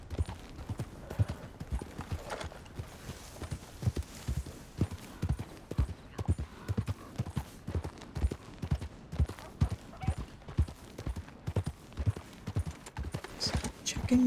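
Horse hooves clip-clopping in the video game Red Dead Redemption 2, a steady rhythmic trot of low thuds repeating throughout at moderate volume, with faint ambient outdoor sound beneath.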